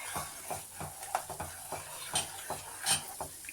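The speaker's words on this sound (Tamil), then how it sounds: "நம்ம அப்படியே சர்க்கரையை சேர்த்து மிக்ஸ் பண்ணி விட்டுக்கலாம்" A spoon stirs sugar into aval payasam, a sweet rice-flake pudding, in a pot, giving soft repeated scraping strokes with faint clinks against the metal, close and quiet, with no voices.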